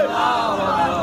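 A gathered crowd shouts a loud chant in reply to the Nara-e-Takbir call at an Islamic religious gathering, one sustained massed roar of voices rising and falling in pitch.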